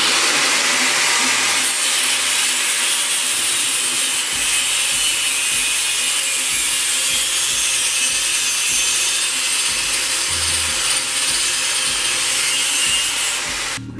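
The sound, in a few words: cutting engine mounting points on Honda Del Sol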